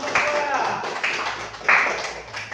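Students in a classroom applaud a group of classmates during an Islamic religious education lesson on the Eid sacrifice, a few short bursts of close clapping mixed with voices talking.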